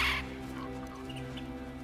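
A raven in the video game God of War Ragnarök gives one short, harsh caw at the start, followed by a low, steady game ambience.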